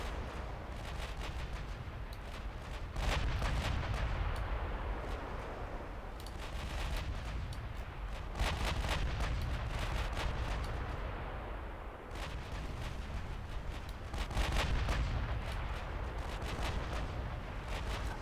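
Quad 6-inch secondary guns on a US warship in a naval video game fire in rolling, heavy booms, repeated blasts recurring every few seconds over a constant loud rumble.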